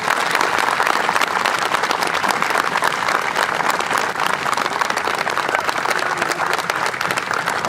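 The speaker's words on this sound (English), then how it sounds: "we think it's them that deserve the real round of applause this afternoon" An audience at a New York State Police special operations team demonstration claps and cheers in a sustained, loud round of applause that continues evenly throughout.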